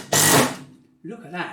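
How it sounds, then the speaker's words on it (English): A Makita DTD153 impact driver drives a screw into timber with a loud, rapid mechanical hammering burst that stops abruptly, followed by a short comment from a nearby voice. "That is hammering away, and you've got to be in control to not split the timber"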